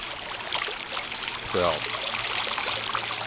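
Water splashing and trickling right beside a compact Casio EX-S12 camera outdoors, a continuous close babbling flow with a brief louder splash midway, while someone speaks over it.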